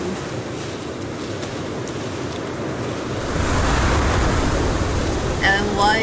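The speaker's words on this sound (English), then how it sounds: "And why is it so windy?" Strong gusting wind in the Sons of the Forest video game, a steady broadband rush that grows louder partway through, with a faint voice underneath.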